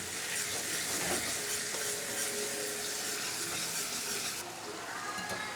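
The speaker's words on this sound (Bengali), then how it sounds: "এবার তেল ছাড়া অবধি মশলাটাকে আমি জল দিয়ে ভালো করে কষিয়ে নেব।" Spice paste cooked down with water in a pan for a Bengali fish-head and water-lily stem curry, a steady close sizzle and bubbling with stirring scrapes, continuous throughout with no talk.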